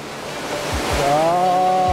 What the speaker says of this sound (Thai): ในที่สุดเราก็มาถึงน้ำตกฟูโดกันค่ะเป็นน้ำตกที่ถูกจัดอันดับให้เป็น1ใน100น้ำตกที่สวยที่สุดในญี่ปุ่น